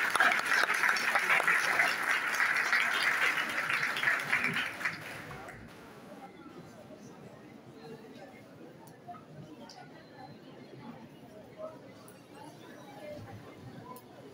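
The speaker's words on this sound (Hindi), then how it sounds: "आपकी भरपूर तालियों में मुदस्सिर बशीर जनाब मुदस्सिर बशीर" An audience at a literary seminar in Lahore claps loudly for about five seconds as a speaker is introduced, then the applause stops and a quiet room murmur follows.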